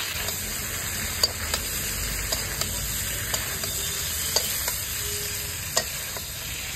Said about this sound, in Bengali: যেই তেল দিয়ে মাছ ভাজি করছি এই তেল দিয়েই ফুলকপি আলু ভাজতে